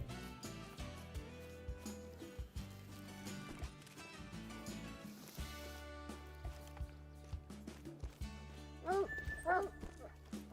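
Hunting dog barking in a hunting video game, with short repeated yips and barks over game music and ambient sounds, moderately loud throughout.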